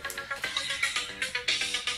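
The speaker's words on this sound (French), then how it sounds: "excusez mon téléphone sonne" A mobile phone ringtone plays a quick, regular pattern of bright electronic tones, pulsing repeatedly at moderate loudness with no voices over it.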